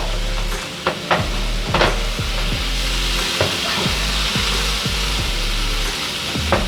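Spinach being stirred into loaded ramen noodles in a pan, with repeated close scraping and stirring strokes over a steady sizzle, and no one talking.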